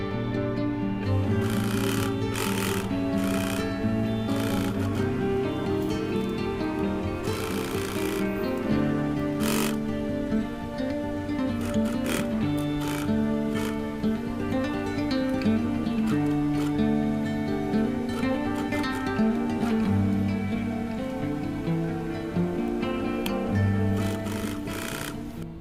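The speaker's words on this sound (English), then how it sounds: "So we'll be stitching all around now." A sewing machine stitches around a faux leather and fabric pouch with a steady mechanical whir and rapid needle ticking, close and continuous, broken by occasional clicks and brief knocks.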